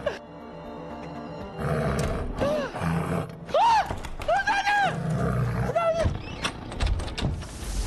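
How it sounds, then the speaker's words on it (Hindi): A lion-like roar, apparently coming from a horse in a magical TV drama scene, repeats in several loud, close bursts over eight seconds, with dramatic background music and brief voices mixed in. "ये घोड़ी शेर की दहाड़ने की आवाज क्यों निकाल रही है?"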